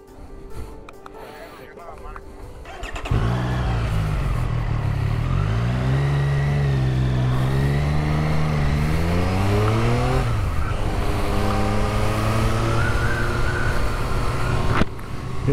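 A Triumph Street Triple RS Moto2 Edition motorcycle lapping Silverstone circuit, its engine rising and falling through gear changes with rapid pitch sweeps, loud and close with wind rush throughout.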